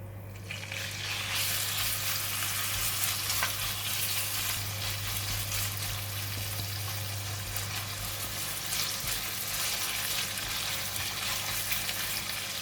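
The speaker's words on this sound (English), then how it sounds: "now we're going to fry the meat" Pork belly fries in a hot pan with a constant dense sizzle and crackle, a low steady hum running underneath, close and unbroken throughout.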